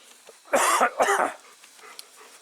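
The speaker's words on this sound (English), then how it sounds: "Lots of dogs." Two quick, close barks from a dog at a dysfunctional vet with many dogs, sharp and loud against a quiet background.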